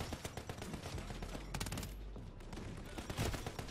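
Dense, continuous automatic gunfire in the Modern Warfare 3 multiplayer map Shipment, rapid shots overlapping loudly throughout with a brief sharper burst in the middle.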